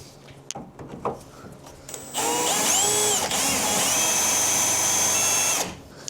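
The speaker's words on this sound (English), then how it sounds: "let's get our holes drilled" A power drill drilling holes for a custom NSU floor whines loudly in one long burst, its pitch rising and holding steady before winding down, after a few quiet knocks and taps.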